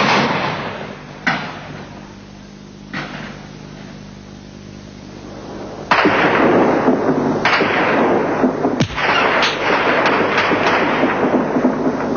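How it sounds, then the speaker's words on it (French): Automatic weapon fire rings out during street fighting in Tehran: isolated sharp shots at first, then a dense, loud stretch of rapid reports echoing between buildings. "Et cette fois, on se bat à l'arme automatique."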